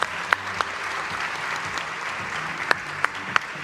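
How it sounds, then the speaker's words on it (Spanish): Sparse, scattered hand claps from an audience at a sustainability summit panel in Peru, a few close sharp claps over a soft, faint background murmur. "acompáñenme con un aplauso para este excelente panel"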